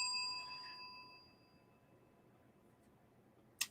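A single bell rings with a bright tone that fades slowly over a faint background hiss, then a short sharp click sounds at the end.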